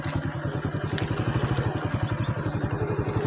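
A motorcycle engine runs at a steady idle, a close, loud, even low chugging pulse throughout with no voices over it.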